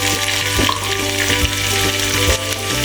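Onion tossed into hot oil with cumin seeds for a mushroom masala, a loud, close, steady sizzle with a few soft stirring knocks, with a low constant hum beneath it.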